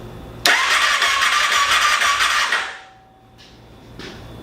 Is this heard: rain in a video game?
no